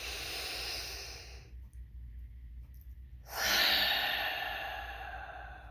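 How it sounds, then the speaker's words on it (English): Slow, deep yoga breath with a hoarse, throaty hiss, Darth Vader style: a long audible exhale, a brief pause, then a loud rushing inhale, close up and alone with no talking. "I just call it Darth Vader breathing."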